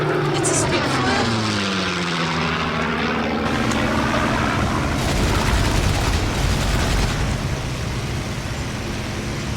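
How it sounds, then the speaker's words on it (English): A Spitfire propeller plane passes overhead, its engine drone swelling to a loud, steady roar that fills the scene and holds for several seconds, with the pitch bending downward as it goes by. "It's a Spitfire."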